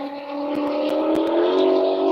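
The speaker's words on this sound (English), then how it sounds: "you hear the race car?" A race car passing by outdoors, a steady rising engine drone with a sustained tonal whine that builds slightly over a couple of seconds, heard alone without talk.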